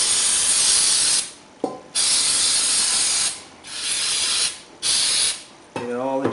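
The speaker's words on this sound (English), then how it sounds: "take your brake clean, put it over top of your oil drain, and basically just hose that off" Brake cleaner is sprayed over the rear axle oil drain of a Ford F250 Powerstroke. It comes as four loud, close, hissing bursts, each lasting about a second, with short gaps between them, then a brief different noise at the end.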